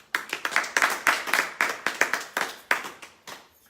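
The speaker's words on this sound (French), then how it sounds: "Nous pouvons acclamer pour le Seigneur." A church congregation claps in acclamation to the Lord, a steady rhythm of crisp, fairly close handclaps lasting several seconds with no voices.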